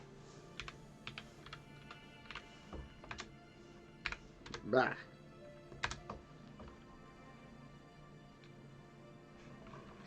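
Scattered, irregular keyboard clacks from a cat stepping across a computer keyboard, soft and close, with a brief voiced exclamation in the middle.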